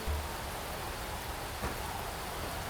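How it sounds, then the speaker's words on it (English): Steady rain pours down in the video game Chimeraland, a dense, even hiss with no pauses, plus a single soft thud in the middle; nobody speaks. "It's raining here."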